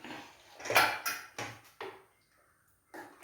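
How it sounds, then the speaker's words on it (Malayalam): Spoon clattering against a metal pot while stirring pumpkin erissery, a few sharp, close metallic knocks and scrapes followed by a lid set down on the pot, with no talking. "അപ്പം ഇതിനകത്ത് ഇങ്ങനെ ഇളക്കി മൂടി വയ്ക്കും."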